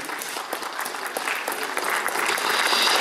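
An audience at an International Day of Indigenous Peoples event in the Cajamarca region applauds a governor's representative, steady crowd clapping that swells louder toward the end.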